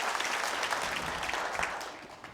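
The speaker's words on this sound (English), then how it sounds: "Applause for all of our scientists." A theater audience applauds scientists at a public science event, a fairly distant and even roar of many hands that fades slightly toward the end.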